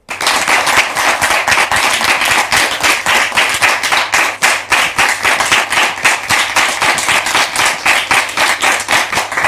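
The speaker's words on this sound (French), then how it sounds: "Sous vos applaudissements, s'il vous plaît." Loud, fast rhythmic clapping from a studio audience welcoming guests on a French-language talk show set, steady beats continuing throughout with no talk.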